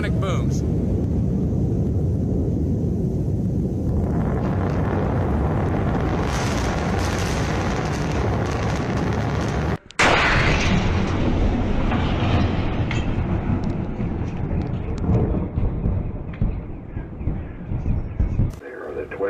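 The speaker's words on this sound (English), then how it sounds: "There are the twin sonic booms." Twin sonic booms from a landing rocket booster arrive as loud, continuous broadband rumble with a sharp break near the middle and then a renewed roar, heavy and close, with crowd noise mixed in.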